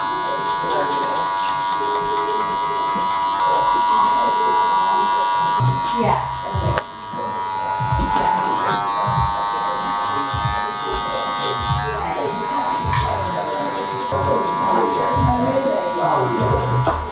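Electric hair clippers buzz continuously with a bright, steady whine while cutting a fade on Asian hair, using a number one guard and working down, the tone dipping briefly midway as someone talks over it.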